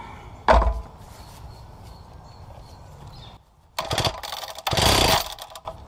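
A Wacker concrete saw engine fires briefly during a start attempt, two loud bursts of combustion clatter after a quieter pull, close to the microphone with no talking.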